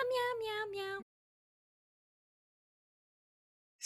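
A single drawn-out cat meow, clear and close, slides downward in pitch for about a second, then silence follows.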